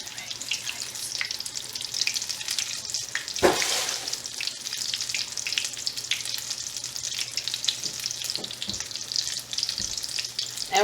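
Apple fritters frying in hot oil, a continuous dense sizzle and crackle heard close up, with a couple of louder pops and a faint hum in the background.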